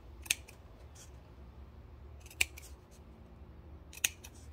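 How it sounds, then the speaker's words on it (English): Scissors snip wide notches into fabric seam allowances while sewing a small garment, three sharp isolated cuts spaced a couple of seconds apart over a quiet background. "So I'm going to go ahead and cut wide notches."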